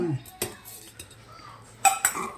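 Dishes and a spoon clinking while curd is served into a lunch box, a few sharp metallic clinks and scrapes spaced apart, close and fairly clear.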